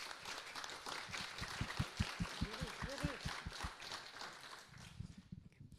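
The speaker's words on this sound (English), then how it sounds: "A huge round of applause for our guest speaker" Scattered applause from a conference audience at a student association national assembly, with a burst of hand claps and low voices continuing around it, fairly quiet and slightly distant.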